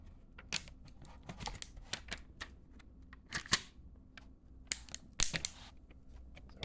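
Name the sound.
peeling a sticker off a digital frame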